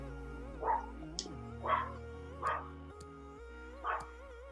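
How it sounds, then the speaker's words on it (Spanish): A dog barks four times in steady, evenly spaced yelps at moderate distance over a quiet room hum, with one short click between the first two barks. "De verdad que es que el perro sigue ladrando"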